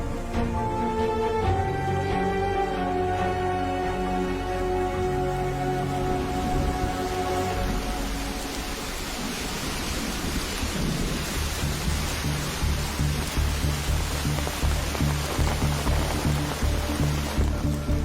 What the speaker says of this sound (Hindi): बरसात तो रुकने का नाम ही नहीं ले रही है भैया।